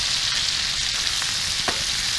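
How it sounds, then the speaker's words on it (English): Onions and potatoes fry in a cast iron skillet over a campfire, giving a steady, dense sizzle throughout, with a few soft scrapes or pops rising above it. "Cooking some onions and potatoes."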